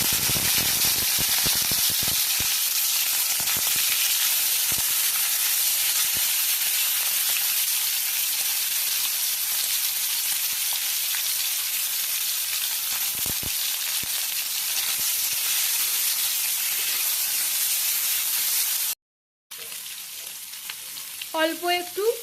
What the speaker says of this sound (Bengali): এবার চিংড়ি মাছগুলো দিয়ে দেওয়া হবে ভাজার জন্য।